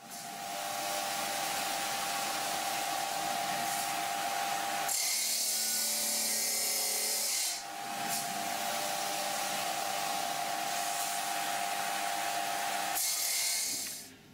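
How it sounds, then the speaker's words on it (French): A diamond-blade rock saw cuts a rock sample to make thin sections. It gives a steady, loud, high whine that shifts tone twice as the blade bites into the stone. "On utilise pour cela une scie à roche, donc c'est une lame au diamant donc qui va servir à couper l'échantillon"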